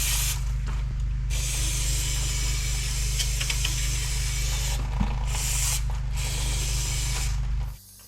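Cleaner sprayed in a steady, continuous hiss onto original drum brakes on a 1979 Ford Bronco, a close, even spray lasting several seconds over a constant low hum before stopping abruptly near the end.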